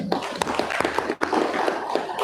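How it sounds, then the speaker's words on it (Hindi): An audience applauds for a Father at a farewell gathering, a steady patter of many hands clapping with a brief dip midway, fairly loud and close, with some voices mixed in. "और एक बार हमारे जवान कच्चा फादर के लिए ताली बजा देंगे"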